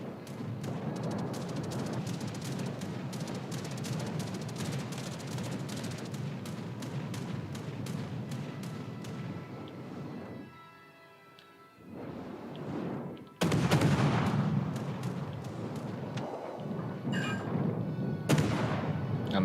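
Warship guns in a naval combat video game firing in rapid, continuous volleys, heavy booming blasts overlapping into a rumbling barrage that dips briefly quiet before another loud burst of salvos resumes.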